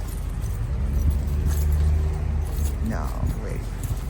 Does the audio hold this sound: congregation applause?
no